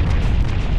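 Bomb blast in the video game Owlboy, a loud, dense, rumbling boom that fills the moment, with no talking over it.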